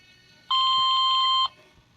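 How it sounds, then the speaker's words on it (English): A radio transmitter's built-in timer sounds one steady electronic beep, about a second long, clear and close over faint background noise, marking the end of a helicopter engine run-up. "You heard the timer beep."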